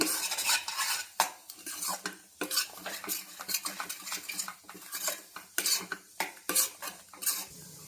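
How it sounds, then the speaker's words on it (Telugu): A spoon scrapes and clatters against a pan as tindora masala curry is stirred, a run of irregular metallic knocks and scrapes close by, with a faint sizzle beneath. "మొత్తం ఒకసారి కలుపుకొని మూత పెట్టుకొని ఒక ఫైవ్ మినిట్స్ మగ్గనిద్దాము"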